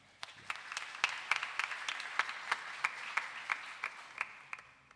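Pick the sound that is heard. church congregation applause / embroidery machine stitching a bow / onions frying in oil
church congregation applause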